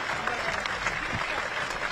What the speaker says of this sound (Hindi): तालियों की गड़गड़ाहट हम बजाएं।